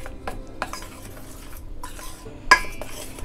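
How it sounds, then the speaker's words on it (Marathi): A spoon clinks and scrapes in a bowl as sugar and white sesame seeds are stirred into other ingredients, with soft irregular clatter and one sharper knock near the end; no one speaks. "मिक्स करून घेऊया"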